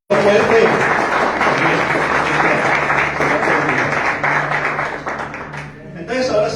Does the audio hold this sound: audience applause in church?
yes